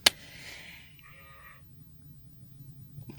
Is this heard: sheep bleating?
yes